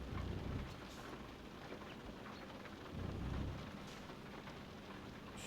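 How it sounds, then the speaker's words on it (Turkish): Steady rain with low rumbles of thunder in Euro Truck Simulator 2, a continuous wash of rainfall with two heavier rolling swells, no talking. "Şu yağmuru kapatsam mı ki? Aslında çok da güzel sesi"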